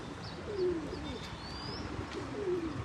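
Pigeons coo softly at a loft, two low throaty coos a couple of seconds apart, with faint chirps and a light hiss of background noise.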